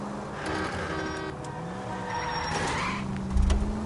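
A car chase in L.A. Noire, with engines droning and shifting pitch, tires squealing in a long rising skid and a thump near the end, all loud and continuous.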